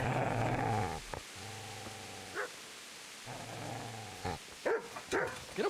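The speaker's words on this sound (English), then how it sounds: "Get away, you mutt!" A dog in the medieval video game Kingdom Come Deliverance growls and barks close up in short bursts separated by brief pauses, with a few sharper yips near the end.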